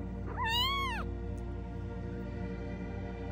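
An orphaned kitten, one of a litter found in a haystack and fed formula by dropper, gives a single clear, rising-and-falling meow, close and fairly loud over a steady background hum.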